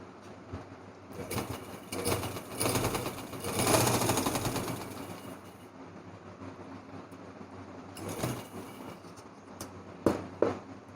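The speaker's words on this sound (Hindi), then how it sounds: "इसको यहाँ सेंटर पर रखकर इस तरह से हमने यहाँ पर सिलाई लगा लेनी है" A sewing machine runs while a baby frock is stitched, a fast close mechanical whir in bursts, loudest in the first half and again near the end, with no talk.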